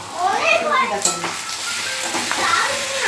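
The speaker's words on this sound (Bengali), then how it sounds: "এবার আলুগুলো দিয়ে দিই ওর মধ্যে" Raw potatoes dropped into a hot pan of oil sizzle and fry with a steady hiss, stirred amid clinking, while children's voices are heard nearby.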